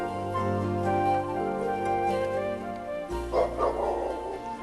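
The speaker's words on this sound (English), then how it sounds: "now you can hear the dogs barking" Dogs bark in a village garden in Felmersham, a few yips and woofs at moderate distance, mixed with a continuous low hum and some background noise.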